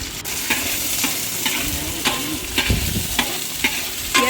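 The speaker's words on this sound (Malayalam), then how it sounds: "കറിവേപ്പില, കുറച്ച് ഉള്ളി, കൊച്ചുള്ളി ഇട്ട് മൂപ്പിക്കണം." Curry leaves, onion and shallots fry in a pan, a loud close sizzle punctuated by regular scraping strokes as they are stirred.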